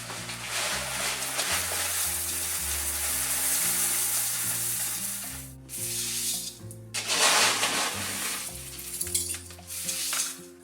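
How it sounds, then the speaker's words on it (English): LECA clay pebbles being mixed by hand into potting mix while repotting large houseplants, a gritty, rattling rub and scrape that pauses briefly midway, set against background music. "So I've got a ton of leca here. I'm going to mix a load of that in."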